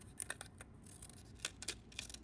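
Silly scissors with a decorative edge snipping paper to shape a cut-paper fish, a handful of short crisp cuts in uneven rhythm, close and fairly quiet.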